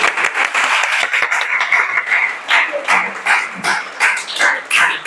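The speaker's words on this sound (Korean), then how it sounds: "박수." Congregation clapping during a Korean Sunday church service, a quick burst of many hands that breaks into uneven rhythmic pulses, fairly loud and close, with a few vocal sounds mixed in.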